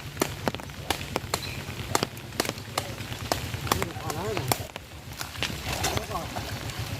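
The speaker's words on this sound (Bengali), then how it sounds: "কেমনভাবে পাটটা ধোয়া হয় একটুখানি দেখো।" Retted jute fibres being beaten and washed in a village pond: repeated sharp wet slaps and thumps land in an irregular rhythm with splashing water, while voices talk nearby.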